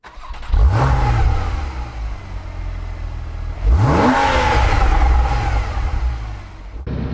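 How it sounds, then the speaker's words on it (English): The air-cooled engine of a 1971 Porsche 911 revs up twice from idle, each blip rising and falling loudly and close by, then settling back into a rough, steady idle. "We got it running. It's idling pretty good."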